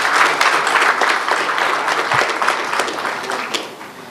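Audience applause at the grand opening ceremony of a lovebird society in Karachi, a dense steady clapping from a full room that carries on for about four seconds and fades slightly toward the end.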